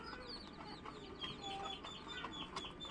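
Chickens cluck softly and intermittently while feeding alongside rabbits, with short chirpy calls scattered over a low farmyard background, faint and somewhat distant.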